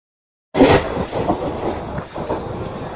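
A train runs along after a sudden start, a steady rumbling rattle of rail wheels and carriages close by, with no talk over it.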